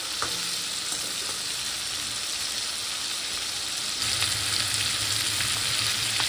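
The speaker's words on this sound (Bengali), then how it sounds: "চিংড়ি মাছটা আমার ভাজা ভাজা হয়ে গেছে।" Shrimp fry in hot oil in a pan, giving a steady, close hiss of sizzling that barely changes across the whole stretch and swells slightly near the end, with no talking.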